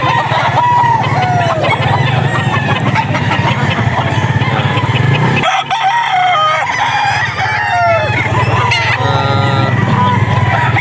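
Roosters and stags at a busy poultry pet market crow loudly and repeatedly, one long crow sounding near while other birds cluck and crow over a constant crowd and engine hum, with brief murmurs of voices.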